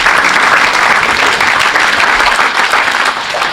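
A church congregation at an evangelistic service breaks into loud, sustained applause, a dense, steady wash of clapping hands filling the hall from start to finish.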